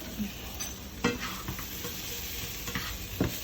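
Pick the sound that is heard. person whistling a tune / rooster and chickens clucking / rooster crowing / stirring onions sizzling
stirring onions sizzling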